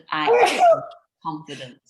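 A single person's sneeze erupts loudly at close range, followed by a short pause and a quieter vocal sound, with speech nearby.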